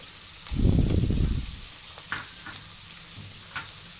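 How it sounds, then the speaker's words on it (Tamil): Chopped onions drop into hot sesame oil in a pressure cooker and burst into a loud, close sizzle for about a second, then settle into a quieter crackle with a few light taps. "எடுத்து வச்சுருக்க வெங்காயத்தை நம்ம அதில் போட்டு நல்லா வதக்குறோம்"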